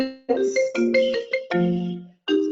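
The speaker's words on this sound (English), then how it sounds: "it rings on my computer" A computer softphone ringtone plays as a repeating melodic chime in short bursts with brief gaps, loud and close, with no talking over it.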